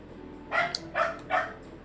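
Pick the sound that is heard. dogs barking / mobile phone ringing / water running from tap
dogs barking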